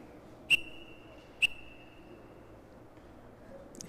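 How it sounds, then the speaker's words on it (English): At a 2018 Ontario senior curling championship, a referee's whistle gives two short, sharp blasts about a second apart, faint against quiet arena ambience. "those 2 whistles were pretty close"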